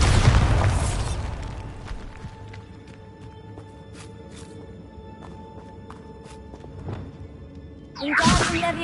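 A Bombarda blast spell in Hogwarts Legacy bursts loudly at the start, leaving faint clicks and a low hum, then a second whooshing burst surges near the end.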